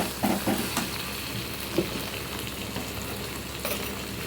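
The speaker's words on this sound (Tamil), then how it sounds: "நல்ல மாதிரி வதக்கி விட்டுருங்க" Onion, tomato and ginger garlic paste sauté in a pan, sizzling steadily up close, with a few stirring scrapes near the start and no talk.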